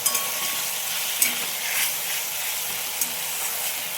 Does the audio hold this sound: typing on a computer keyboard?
no